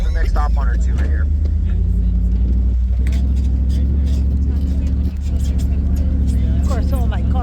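A car rolls over packed sand at the Oregon sand dunes, its engine giving a steady, loud low rumble throughout while people talk inside the vehicle.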